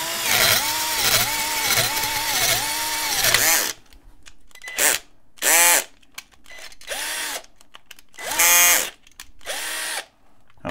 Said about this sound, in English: we can drill right through that hole with a 3/16 drill bit